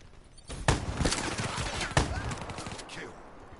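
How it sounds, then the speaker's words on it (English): Video game gunfire with a shotgun in play, two sharp loud blasts about a second apart over a busy, noisy backdrop of other shots and game sounds. "it's a shotgun."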